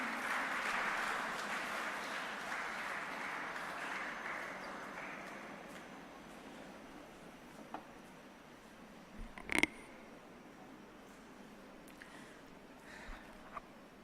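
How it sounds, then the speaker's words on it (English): Audience applause welcoming the chief guest at a college workshop inauguration, a broad steady clapping that is strongest at the start and then thins into a quieter patter, with a few sharp knocks near the end. "Let's give a round of applause to welcome our Chief Guest."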